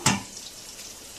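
Sliced karela (bitter gourd) frying in a pan on a home stove gives a soft steady sizzle after a brief louder clatter at the start, fairly quiet and close, with no talking.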